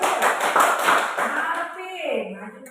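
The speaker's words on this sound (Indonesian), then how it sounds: "tepuk tangan untuk Nadine, bagus" Brief, quick clapping from a small group of children in a classroom, briskly rhythmic and close, tapering off as a voice starts speaking at the end.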